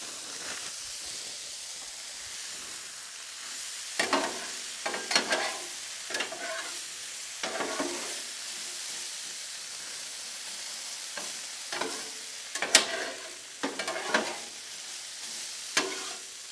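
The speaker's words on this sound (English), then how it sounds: "Let's drop some hash browns down." Hash browns fry on a flat griddle at a racetrack breakfast cook, giving a steady, close sizzle with periodic scraping and stirring bursts from a spatula.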